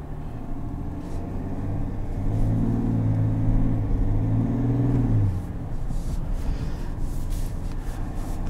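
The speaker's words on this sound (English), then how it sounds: "The 3-liter Duramax is a relatively new engine." A 2020 GMC Sierra 1500 Denali pickup with the 3-liter Duramax diesel drives in sport mode, its engine a low steady rumble heard from the cab that swells as it pulls harder midway, then settles back.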